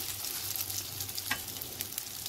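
Soybean, potato and egg frying in a pan over a low flame: a dense, continuous sizzle with crackles and occasional spatula taps, close and alone.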